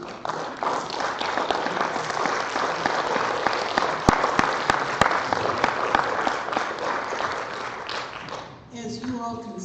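Sustained applause from attendees at a school district negotiations fact-finding meeting, a continuous patter of clapping that tapers off near the end as a voice begins speaking.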